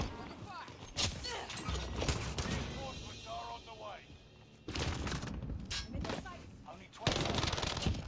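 Rapid SMG gunfire in a video game, fired in loud bursts across the first few seconds, dropping out for a stretch, then returning in sustained fire, with clicks and other game effects mixed in.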